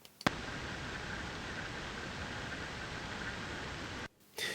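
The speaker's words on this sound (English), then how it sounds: "you can hear 2 artifacts there, one of hiss and motor noise" Simulated tape hiss and motor noise from a tape-emulation audio plugin: steady broadband hiss with a faint low mechanical hum running beneath it, starting and stopping abruptly, no voices.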